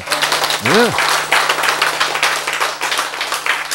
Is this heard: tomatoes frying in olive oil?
no